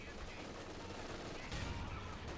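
Machine gun fire in the real-time strategy game Company of Heroes 2 rattles in dense, continuous bursts amid battle noise, with a heavier thump partway through.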